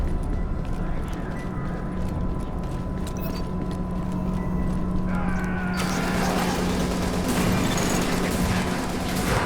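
Gunfire in the video game The Division, dense rattling shots and mechanical clatter forming a continuous loud barrage that thickens partway through, with game dialogue talking over it.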